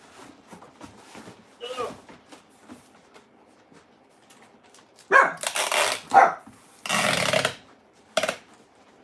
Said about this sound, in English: Dogs don't know what to think